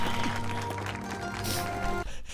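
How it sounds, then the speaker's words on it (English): Applause from a class of students in an anime scene, a dense steady patter of clapping with music layered underneath, cutting off near the end. "Julius forced to clap."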